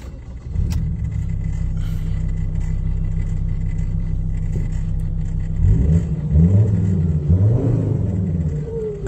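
A Ford Ranger pickup's engine rumbles steadily during a road test, with a low drone and some revving toward the end as it accelerates; no talking.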